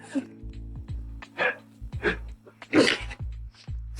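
A dog barks in a quick, irregular series of sharp, close barks and yips over a low steady hum, with brief voices in between.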